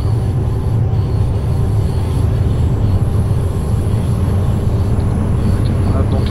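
In the Train Simulator 2016 video game, a DB BR442 electric train accelerates toward 100 km/h with a steady, loud, dense rumble of rolling wheels and motor that stays constant throughout.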